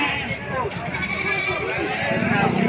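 A goat bleats repeatedly at a busy livestock market where goats are sold by the kilo, its calls mixed in with steady crowd chatter and voices nearby.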